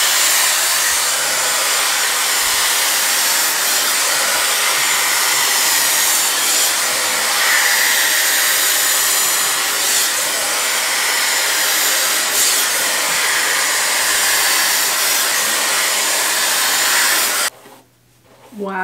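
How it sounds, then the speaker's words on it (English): A handheld blow dryer on high heat runs steadily and loudly at close range as a continuous airy whoosh, cutting off abruptly near the end. "And it's a blow dryer."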